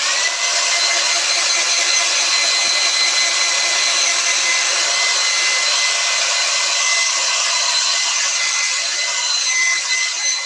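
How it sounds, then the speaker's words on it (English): Hair dryer blowing to dry a watercolor painting, a steady bright whirring rush that holds constant throughout, loud and close with no talking. "I've got my hair dryer here"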